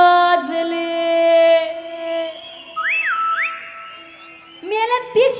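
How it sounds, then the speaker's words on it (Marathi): An audience member whistles at an outdoor Agri festival concert with a well-known singer performing: a shrill, sustained whistle with a quick rising-and-falling glide, heard close among a lively crowd and music. "कोणीतरी शिट्टी वाजवा ना"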